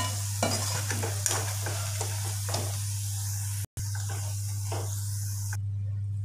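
Spinach, onion and potato pakoras sizzle in hot oil as they are stirred and turned, a loud busy frying hiss with scraping clatter, a steady low hum underneath, and a brief gap midway.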